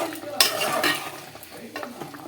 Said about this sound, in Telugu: ఒకసారి ఇది కూడా కలిపేసేసుకుందాము